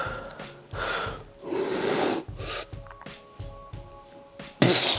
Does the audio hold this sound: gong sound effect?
no